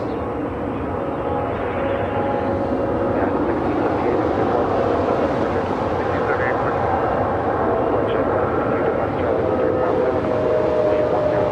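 A JetBlue Airbus A320 airliner taxis toward the gates on the south side of a large airport, its steady broadband jet engine whine and rumble continuous and fairly loud throughout, with faint tonal hums over the wash.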